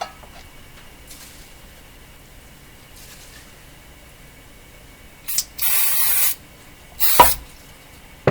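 Contact cleaner sprayed onto a switch inside a Canadian Westinghouse Model 684 radio: after a quiet stretch, a short hiss, a longer sustained spray burst and a final brief squirt, all close and fairly loud.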